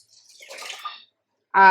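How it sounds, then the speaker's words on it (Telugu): Water pours briefly into a pot of cooked lentils for tomato dal with a soft splashing gush, then stops, and a voice starts speaking right after. "ఇప్పుడు నాన్న నీళ్ళు తీసిన 1 గ్లాసు పోస్తున్నమాట."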